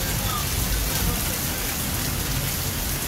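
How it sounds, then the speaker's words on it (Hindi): Heavy winter rain with hail pours down steadily across Barawagah and nearby areas of Jhelum, Pakistan, a dense, constant loud hiss of falling water and pelting ice with no breaks. "ये जी मौसम सरमा की शदीद तरीन बारिश और शदीद तरीन ज़ालाबारी है"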